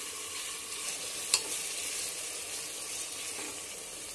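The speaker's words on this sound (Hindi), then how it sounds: "प्याज को ज्यादा गोल्डन नहीं करना है, बस नरम होने तक, गुलाबी गुलाबी हो जाए और नरम हो जाए जब तक हमें इसे फ्राई करना है।" Onions softening in a pan for keema, frying with a steady close sizzle while being stirred, one brief sharp scrape of the spoon against the pan.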